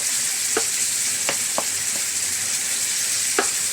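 Onion and garlic frying in a pan until golden brown: a dense, continuous sizzle with a few scattered clinks of a spoon stirring, close and with no talking.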